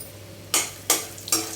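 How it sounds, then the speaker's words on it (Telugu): A quarter cup of peanuts in two tablespoons of hot oil in a pan is stirred, giving three short scraping, sizzling strokes spaced evenly over a quiet background. "ఆయిల్ కాగిన తర్వాత పావు కప్పు పల్లీలు వేసుకున్నాను"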